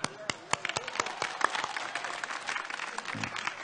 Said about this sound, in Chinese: 好，我们再一次用掌声欢迎我们的指挥家。